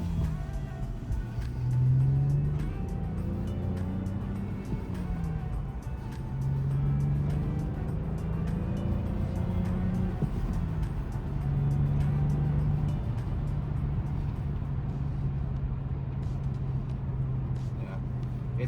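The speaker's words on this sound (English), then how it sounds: "It's weird driving a manual car after so many years of" A rare manual BMW with damage drives along, its engine note rising and falling through gear changes in a steady interior drone, with a person talking over it.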